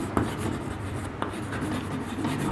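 Writing on a board during a maths lesson: close scratchy strokes and a few sharper taps over about two and a half seconds, with no voices.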